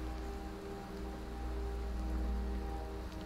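Steady rain falls in the video game Skyrim, a constant soft patter that lasts the whole time, with a faint musical drone underneath.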